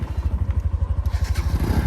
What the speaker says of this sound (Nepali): मेरो बाइक केही हुँदैन जाउँ न